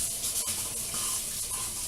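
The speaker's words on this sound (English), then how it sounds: "I am going to add a little bottle of water." A bottle of water being poured into canning meat for cured pork, giving a short, soft, continuous splash and trickle, fairly quiet and heard alone.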